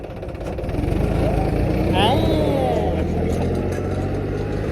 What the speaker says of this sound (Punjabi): ਬੜਾ ਜ਼ੋਰ ਮਾਰਦਾ ਟਰੈਕਟਰ ਤੁਹਾਡਾ